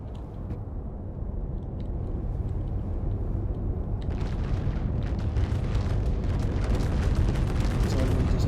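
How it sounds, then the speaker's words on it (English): Cannon rounds fire repeatedly from aircraft in an air-combat video game tournament, heavy booms and rumbling bursts layered over a steady engine drone, growing denser and louder toward the end. "The Pineapple pilots firing away. Why not? We've got plenty of cannon rounds."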